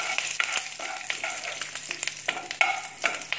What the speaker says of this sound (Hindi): कड़ी पत्ता डाल दिया है मैंने।